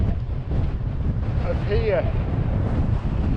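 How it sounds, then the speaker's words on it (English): Strong wind buffets a Lake District mountainside, roaring steadily and loudly across the microphone, while a person speaks briefly over it. "It's a beautiful day, it's just so windy."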